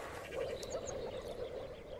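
Moor frogs croaking in a wet forest in spring, a dense chorus of soft, bubbling calls blending into a continuous low hum, moderately distant and fairly quiet.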